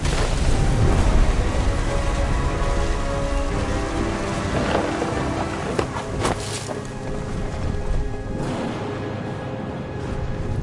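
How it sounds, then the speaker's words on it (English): Steady heavy rain pours through a thunderstorm in the game What Remains of Edith Finch, with loud rumbling thunder rolling under the downpour throughout. "The thunder sounded much too close and full of angry power."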